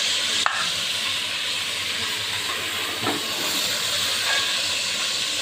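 Eggplant pieces frying in oil in a pan give off a steady, even hiss of sizzling, close and constant, with a couple of faint clicks and no voices.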